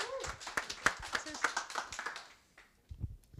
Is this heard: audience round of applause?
yes